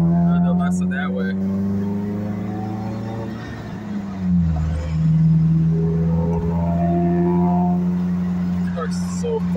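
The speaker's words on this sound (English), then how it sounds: "Car's so fucking ridiculously loud." A very loud car engine drones steadily up close, its pitch dipping briefly midway and then settling back into a strong, sustained hum throughout.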